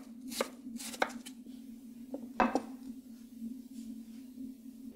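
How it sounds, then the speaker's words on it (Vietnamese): A knife chops taro into strips on a cutting board in a few quick, sharp knocks, spaced irregularly, close up and with no one speaking. "Xong sau đó cũng cắt sợi như cà rốt."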